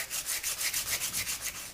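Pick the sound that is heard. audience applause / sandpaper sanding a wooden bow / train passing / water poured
sandpaper sanding a wooden bow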